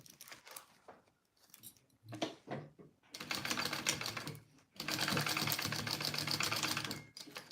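Sewing machine basting two layers of fabric right sides together for a zippered Joey Pouch, stitching in short stop-start bursts before two long steady runs of rapid mechanical whirring, close and loud.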